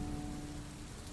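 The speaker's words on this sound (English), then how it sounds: "Outside, the rain continued its steady lullaby, but now it felt even more distant, softened by the protective glow of the cottage" Steady rain falling outside a cottage by a Scottish loch, a soft continuous patter with a faint tonal hum beneath it.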